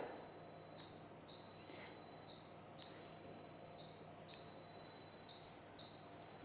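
A bread machine beeping while kneading white bread dough, a series of short, thin electronic beeps repeating at uneven intervals over a low mechanical hum, fairly quiet.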